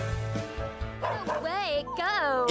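A cartoon dog, Beast Boy in dog form from Teen Titans, yips and whimpers in a couple of short, pitched bursts, mixed with the show's voices and music.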